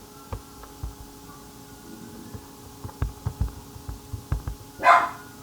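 A dog barks in a quick series of short, close, sharp woofs, then lets out one louder, higher bark at the end, with no talking.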